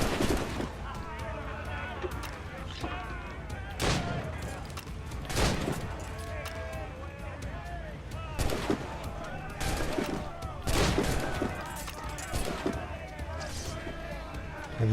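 Heavy booms of ship's guns firing in Assassin's Creed Rogue, a series of separate loud blasts spaced a second or two apart over ongoing battle noise and a talking voice.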